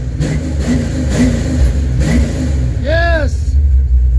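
The engine of the Project White Trash car, run for the first time in 26 years, idles and revs up and down close by, with a voice over it for much of the time.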